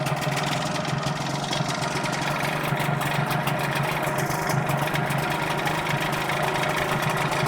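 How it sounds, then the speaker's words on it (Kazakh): A Hangkai 6.0 outboard boat motor idles just after starting, putting out a little smoke as cooling water flows. It is a continuous, close, fairly quiet buzzing drone with a steady rhythm and no voices. "Мотор кетті."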